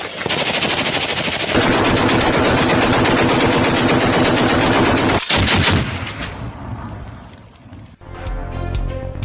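Sustained, loud automatic gunfire at close range, machine-gun bursts with abrupt cuts between shots, from firing along the Afghan border with Khyber Pakhtunkhwa.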